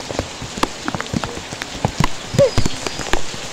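Heavy typhoon rain pours steadily on surfaces during Typhoon Enteng amid flooding, a dense hiss broken by scattered sharp drops and splashes, loud and close.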